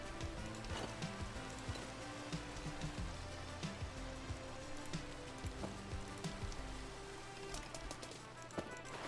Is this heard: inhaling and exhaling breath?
no